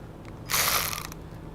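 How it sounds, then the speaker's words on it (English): A 1/4-inch ratchet clicks through a quick burst of turns while threading brake bolts in a workshop, a short dense rattle of pawl clicks standing out briefly over a quiet background. "So yes, I'm still using my 1/4-inch ratchet."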